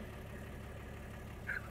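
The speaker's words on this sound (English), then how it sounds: "It sounds better. It's got more torque. It's idling higher." Diesel engine of a UD truck with an FE6 motor idling at a raised speed after a white smoke fault was fixed, a steady low throb heard close and alone, with a brief higher tone near the end.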